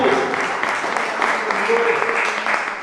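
Church congregation clapping their hands during a sermon, a steady dense patter of many hands under an ongoing voice.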